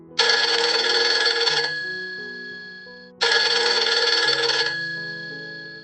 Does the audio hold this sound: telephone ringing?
yes